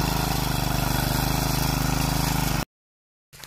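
A tractor engine runs steadily in a paddy field being levelled for rice sowing, a loud close mechanical drone with a pulsing low rhythm that cuts off abruptly near the end, leaving silence before a faint return.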